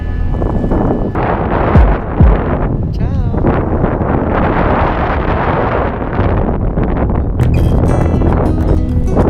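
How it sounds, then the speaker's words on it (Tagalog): Strong, steady wind on a boat in the Philippines roars and buffets the microphone throughout, with a voice speaking briefly over the blustery noise. "Palakas ng palakas din yung hangin."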